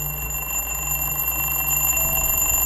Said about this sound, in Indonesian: tiba-tiba suara alarm dari HP-nya Denny berbunyi